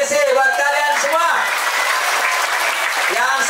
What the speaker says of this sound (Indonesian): Tepuk tangan buat PC, buat kalian semua